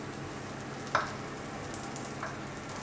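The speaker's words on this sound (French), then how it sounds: "Je vais mettre mon beurre à fondre." Butter melts in a cooking pot with a soft, low sizzle, joined by a sharp tap near the start and a fainter one later.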